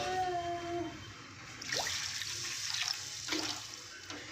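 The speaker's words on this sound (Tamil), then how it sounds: "இப்போ நாம் 1 கப்பு ரவைக்கு 2 கப்பு தண்ணி ஊற்றிக்கலாம்." Water poured onto semolina in a pan for rava kichadi, a rushing, splashing pour that starts after a quieter opening and continues fairly close for a few seconds with no talk.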